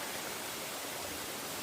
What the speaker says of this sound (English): This is a massive creek running right here beside us.